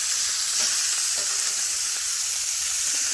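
Shrimp sizzle steadily on a hot griddle beside chorizo for fajitas, a dense bright hiss of frying with faint scraping as they are flipped, close and continuous without voices.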